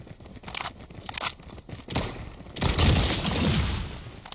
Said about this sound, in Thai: เวลายิงนะครับ เอฟเฟกคิวก็จะประม าณได้ยินเสียงปืนไหม